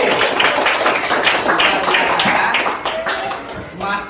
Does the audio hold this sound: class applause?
yes